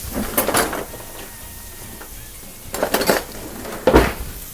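Metal spatula scraping and clattering against a pan while turning turkey fried steaks, a few short bursts of scraping and tapping separated by quieter stretches of soft background sizzle.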